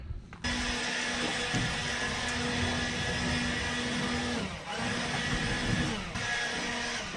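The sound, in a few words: air blower blowing dust out of the back of a vehicle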